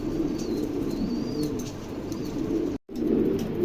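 King pigeons cooing low and steady nearby, with a few thin higher chirps and a brief cut to silence partway through.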